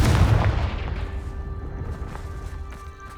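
A Confringo blasting curse explodes in Hogwarts Legacy, a loud deep boom at the start that rumbles and slowly fades with a lingering ring over a few seconds.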